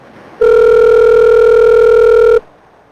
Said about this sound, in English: This McDonald's is not answering the phone. It's been ringing for a minute now